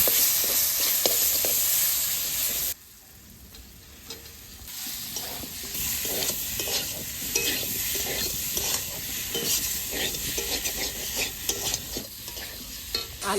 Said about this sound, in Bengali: এবার আমি ভাজা আলুগুলো দিয়ে দেবো।